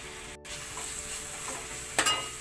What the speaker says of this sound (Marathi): परतून घ्यायचं आहे पूर्णपणे